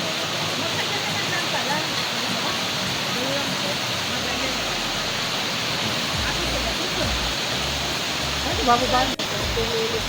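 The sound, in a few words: Digisit Falls waterfall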